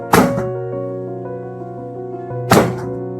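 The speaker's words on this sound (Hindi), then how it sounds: "ये इसके ऊपर ग्रिड के ऊपर मैं ये वेट गिरा रहा हूं" Two heavy thuds of a weight dropped onto a grid mattress, a couple of seconds apart, each with a short resonant ring lingering between them.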